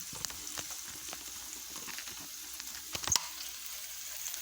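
Homemade Salisbury steak patties cooking in a pan give off a quiet, steady sizzle with faint crackles and pops, heard close up and alone, with one sharper clink partway through.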